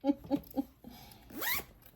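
Zipper on a handmade two-toned tote bag, pulled in a few short rasping strokes and then one longer sweeping zip, close up with no voices.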